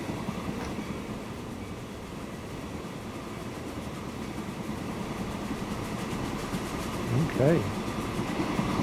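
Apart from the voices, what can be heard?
trains running on rails in Transport Fever 2 video game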